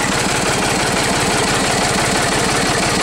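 A 1978 Allis Chalmers 5050 tractor engine runs with a rapid, steady diesel knock, loud and close, sustained throughout without talk.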